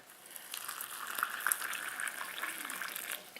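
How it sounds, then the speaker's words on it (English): Water poured from a kettle into a cheap snack pot noodle: a faint, hissing, splashing trickle runs for several seconds at close range with small fluctuations in flow. "I'm putting water in it."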